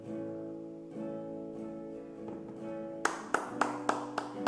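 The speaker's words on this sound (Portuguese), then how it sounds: "Vamos aplaudir bem forte ao Senhor" A church congregation begins clapping in praise to the Lord: after a quiet sustained tone, a series of distinct, evenly spaced claps rings out, loud and near.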